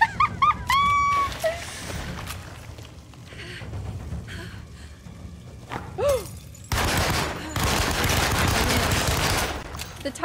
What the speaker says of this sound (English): The Tommy gun's a little crazy.